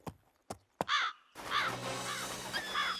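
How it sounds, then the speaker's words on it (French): A crow caws close by: three or four harsh, rasping calls repeat over a background of wind or rustling, after a few sharp taps at the start. "Va-t'en, sale corbeau!"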